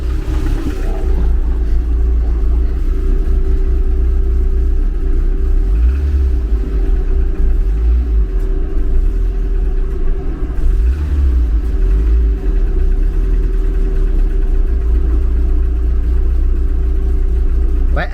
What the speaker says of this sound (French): avec l'accélérateur, j'arrive à avoir un ralenti en dessous de 1000 tours